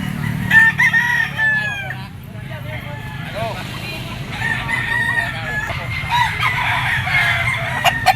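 A three-year-old yellow-legged Talisay gamefowl rooster of Sweater bloodline crows loudly several times and clucks, with people talking in the background.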